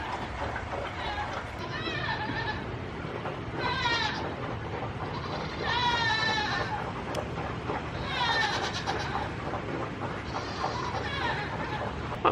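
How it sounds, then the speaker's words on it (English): A miniature goat on a farm screams in repeated loud, wavering bleats spaced a couple of seconds apart, over constant background noise with some talk. "it just isn't a beautiful morning without Winona screaming her face off"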